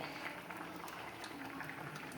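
Liquid boiling in a saucepan while mustard seeds are to be tempered, a soft steady bubbling hiss with faint pops, quiet and unbroken, with no voices.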